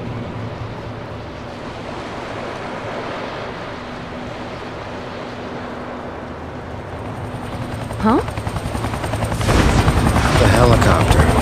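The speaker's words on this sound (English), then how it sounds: "The helicopter. I remember." Helicopter in the video game XIII near Brighton Beach, a rumbling rotor drone under wind and surf that swells louder near the end, with a short spoken exclamation partway through.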